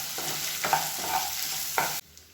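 Sliced onions with salt being sautéed in a pan for a tomato-free chutney: a steady sizzle with a few scraping stirs of a spoon, then it cuts off abruptly to near quiet.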